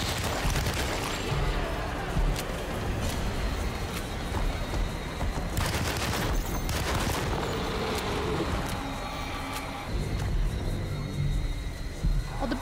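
Gunshots fired in the Alone in the Dark video game, a dense, loud barrage of repeated sharp cracks over a constant rumbling din, with no one talking.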